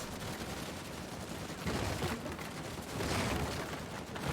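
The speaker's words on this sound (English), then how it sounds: "Oh, those are bullets." Dense, continuous gunfire rattles through a firefight in the video game Uncharted 4: A Thief's End, with heavier bursts swelling partway through and at the end, loud and unbroken throughout.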